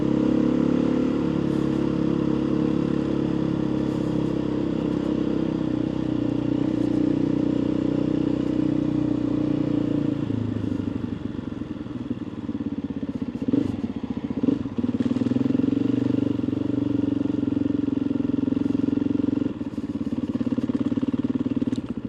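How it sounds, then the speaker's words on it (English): A loud motorcycle engine drones steadily throughout a ride, its pitch wavering as the throttle eases and picks back up, with no voices. "this bike sounds so good"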